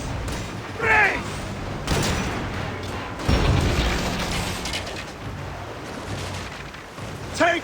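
Warships trading cannon fire during a naval battle in Assassin's Creed Origins, with heavy booming shots and rumbling impacts repeating every second or so beneath a steady wash of battle noise.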